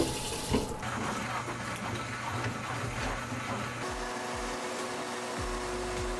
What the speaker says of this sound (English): what we had there was water spilling out as the cable was going down because the line was obviously full